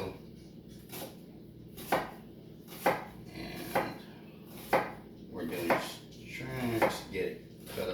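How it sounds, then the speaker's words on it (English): A sharp knife chops an onion on a cutting board in a Tex-Mex kitchen, giving about eight distinct, evenly spaced thunks close to the microphone, softening into quicker slicing toward the end. "Cut the onion like so."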